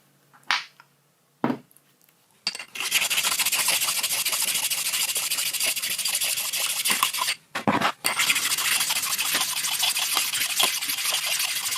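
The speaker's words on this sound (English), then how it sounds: "I can clean the exposed slideways with the same pair of diamond honed stones that I used before." Diamond honed stones scrub along the slideways of a CJ0618 7x12 mini lathe, a sustained close rasping rub after a few short scrapes at the start, briefly pausing once midway before resuming, no voices.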